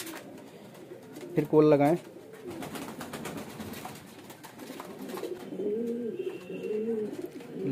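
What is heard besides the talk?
pigeons cooing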